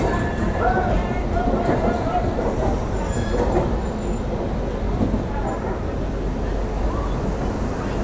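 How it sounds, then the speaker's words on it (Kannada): Visakhapatnam–Mahbubnagar Superfast Express 12861 running, a steady loud rumble of wheels and carriage noise filling the scene without break, with voices of a crowded coach faintly underneath. "ಟ್ರೈನ್ ಹೆಸರು ಬಂದುಬಿಟ್ಟು ವಿಶಾಖಪಟ್ಟಣಂ ಮಹಬೂಬ್ನಗರ್ ಸೂಪರ್ ಫಾಸ್ಟ್ ಎಕ್ಸ್ಪ್ರೆಸ್ಸು"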